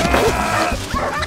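Cartoon dogs yapping and barking in a quick, excited burst, with a few whimpering yips mixed into the loud, close commotion.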